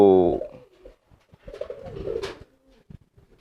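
Pigeons cooing close by, with a low, throaty burbling coo that rises and falls in a short phrase, while faint talk and small handling noises sit in the background.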